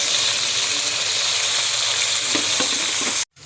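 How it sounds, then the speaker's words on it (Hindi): Okra (bhindi) frying in hot ghee gives a loud, steady, dense sizzle that holds throughout, with a few brief stirring sounds near the end before it cuts off abruptly. "अब इसमें मैं डालूंगी भिंडियाँ और फ्राई करूँगी।"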